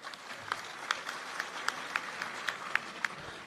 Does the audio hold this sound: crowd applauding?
yes